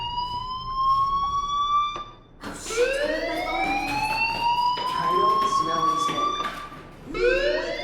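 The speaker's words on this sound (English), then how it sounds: "Hey, do you hear that fire alarm?" Fire alarm ringing in the Life is Strange video game, a loud sweeping electronic wail rising and falling repeatedly, with a brief dip in the middle before resuming strongly.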